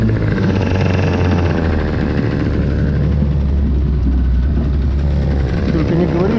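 A Russian-made outboard boat motor runs with a steady, loud, low droning engine noise throughout, with someone talking briefly over it.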